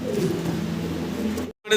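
Black pigeons coo softly in low, throaty murmurs that continue steadily, then break off into a brief silence before another sound starts.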